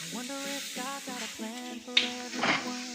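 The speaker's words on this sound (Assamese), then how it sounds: "মিঠৈখিনি ভালদৰে মিলি যোৱালৈকে সৈতে অকণমান ভালদৰে উতলাব লাগিব" Jaggery pieces in water being stirred and brought to a boil in a pan for bajra flour sweet laddoos, heard as close, squeaky scraping strokes in a quick rhythm over a soft sizzle.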